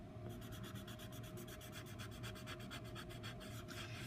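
Steady scratchy rubbing of a colorless blender pencil tip on a hard board, close up and continuous, with a rhythmic back-and-forth stroke.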